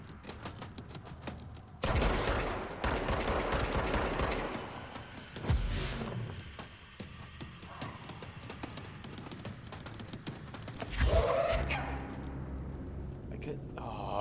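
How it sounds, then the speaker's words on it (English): Bursts of rapid gunfire in the video game Control, loud clattering volleys breaking out in several spells over a busy game soundscape, with someone speaking throughout. "Can't see who's shooting at me."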